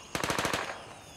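A machine pistol in the Gray Zone Warfare video game fires one rapid burst of about seven sharp shots, loud and close, then fades into quiet.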